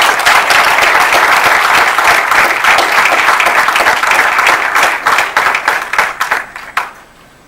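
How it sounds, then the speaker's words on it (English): Loud audience applause at a science communication event in Mauritius, welcoming the country's President to the stage, full at first, then thinning into scattered claps and stopping after about seven seconds. "the journey to the stage is longer than the applause lasts"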